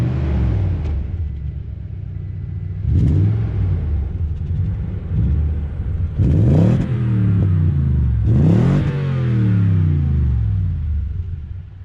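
A 2020 Toyota Tundra TRD Pro's TRD dual exhaust revs hard in three loud, deep bursts over a steady idle rumble, close by, in sand dunes.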